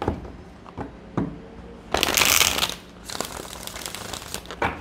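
A deck of tarot cards is shuffled up close in quick crisp bursts, with a loud riffling flurry midway followed by a second, softer run of shuffling, no voices.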